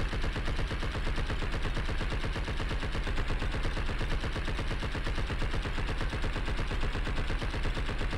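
Rapid automatic gunfire in the video game Blood and Bacon, a continuous loud stream of fast, evenly spaced shots with no pauses and no talking.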